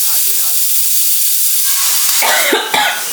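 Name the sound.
cough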